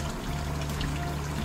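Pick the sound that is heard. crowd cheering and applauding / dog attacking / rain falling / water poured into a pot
water poured into a pot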